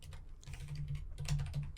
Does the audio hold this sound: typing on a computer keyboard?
yes